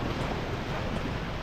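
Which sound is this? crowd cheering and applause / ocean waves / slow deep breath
ocean waves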